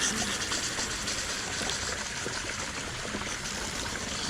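Water pours into a one-gallon container in a garden, a steady loud rushing stream running throughout with no talking.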